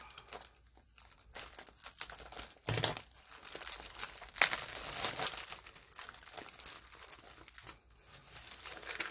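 Sticky Japanese calligraphy paper, fibrous on one side, being cut and handled up close, giving faint, irregular crinkling and rustling with occasional sharper crackles and brief pauses.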